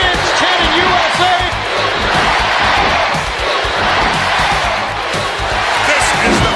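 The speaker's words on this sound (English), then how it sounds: "The fans chanting USA." A loud, dense wrestling video game crowd roars continuously during a steel cage match, voices blending into a rhythmic chant of "USA" that fills the space without pause.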